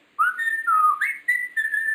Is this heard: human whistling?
yes